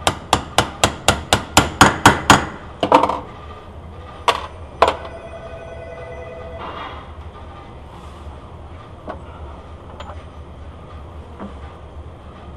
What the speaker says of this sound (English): You basically just match up the cone and tap it into place.